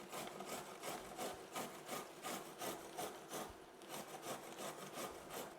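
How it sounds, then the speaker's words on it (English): Two carrots are rubbed against a kitchen grater in steady, evenly spaced scraping strokes, close and moderately loud, with no voices. "So we're going to grate the carrots."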